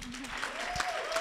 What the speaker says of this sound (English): Give a nice round of applause to Franzi.